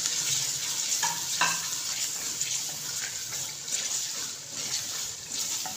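Roasted spice powder and finely chopped green chillies frying in a karahi, a dense steady sizzle with a few faint stirring scrapes near the start, heard up close with no speech.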